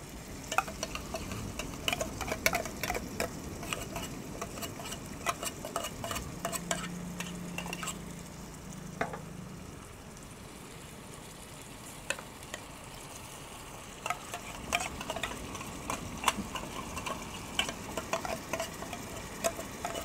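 Tuna is stirred into a softened sautéed mixture in a pan, with a steady soft sizzle under repeated scraping and clinking of a utensil against the pan. The stirring is close and continuous, and a brief hum comes in midway.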